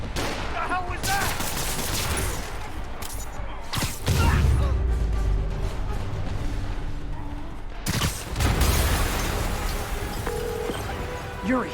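An explosion goes off during a boss fight with Kingpin in Marvel's Spider-Man Remastered, a loud booming burst with crashing debris that sits inside dense game music, effects and bursts of gunfire-like noise, and a second heavy hit follows a few seconds later.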